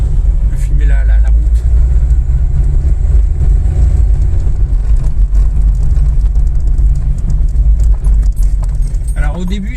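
A Citroën ZX car drives on a road during brake testing, a steady low engine and road rumble close up with faint rattling and clicks, while people talk over it.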